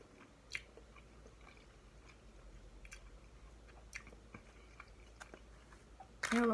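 Someone chews Jollibee spaghetti close to the microphone, giving soft, irregular mouth clicks and squishy chewing sounds at low level, ending in a sudden louder burst.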